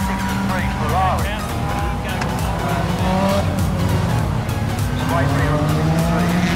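A Ferrari race car in an IMSA sports car race at Road America runs on track, its loud engine drone steady throughout with tire noise and passing-car sweeps, under a commentator's voice.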